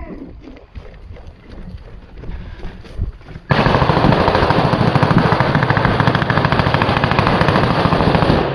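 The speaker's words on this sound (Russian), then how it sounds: "Стоп, стрельба!" Rapid, loud bursts of automatic gunfire during combat in the war in Ukraine erupt after a few seconds of wind and outdoor noise, continuing relentlessly close to the microphone.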